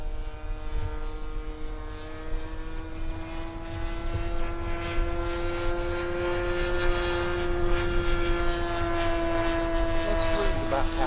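Engine of a 1:6.5 scale Cessna Skylane 182 model airplane in flight over a grass field, a steady droning buzz with strong tonal harmonics that holds for the whole stretch, with people talking nearby.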